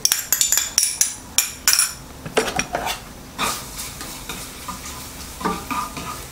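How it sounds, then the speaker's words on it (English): Garlic and ginger sauté in a pan with a soft sizzle beneath repeated sharp clinks and scrapes of a utensil against the pan, the clatter easing into steadier stirring. "Saute the garlic and ginger until they turn aromatic."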